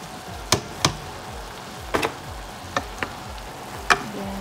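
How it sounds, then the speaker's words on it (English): Upo (bottle gourd) being stirred in a pan with shrimp and ground turkey: a handful of sharp utensil clicks and scrapes at irregular intervals over a faint, steady background sizzle, with no talking. "Then stir it."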